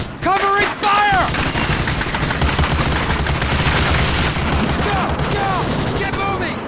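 Rapid rifle and machine-gun fire crackles throughout a D-Day beach assault on Omaha Beach in Medal of Honor: Allied Assault, loud and dense, with shouted soldier voices rising over the shooting near the start and the end.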